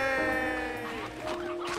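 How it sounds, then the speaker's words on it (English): Chickens in the video game Slime Rancher 2 let out a quick burst of clucks and squawks, close and clear over soft background game music. "Chickens!"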